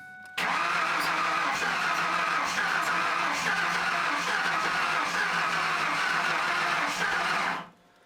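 Starter cranking a 1994-2004 Ford Mustang engine that will not fire, with a new fuel filter and no fuel pressure; a steady, loud grinding crank runs for about seven seconds and then stops, with no talk.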